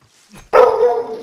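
A dog in Modern Warfare gives a single loud, close bark after a faint lead-in.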